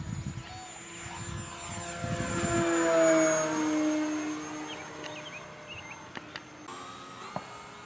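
An RC model airplane, a Cherokee or Cirrus with AS3X stabilization, passes low over the deck at full throttle, its propeller whine rising as it nears and then fading away. No one speaks.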